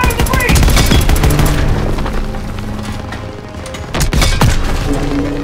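A tank is blown up amid heavy gunfire in Call of Duty WWII, with rapid machine-gun bursts, booming cannon blasts and a loud explosion near the end, all close and dense under shouted voices.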